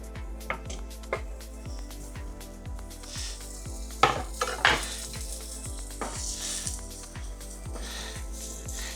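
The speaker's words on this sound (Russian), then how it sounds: "И теперь все это пережарим. У меня сковородка нагрелась." Pork fat frying in a preheated pan, sizzling steadily at close range with a regular ticking rhythm and a few sharp clinks of utensils against the pan around the middle.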